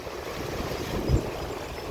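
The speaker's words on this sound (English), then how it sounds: "there's a little more wave action going on" Freshwater Lake Superior waves at Artist's Point in Grand Marais, Minnesota, wash steadily against the shore with a broad, constant rush and a soft swell in the middle, mixed with wind noise.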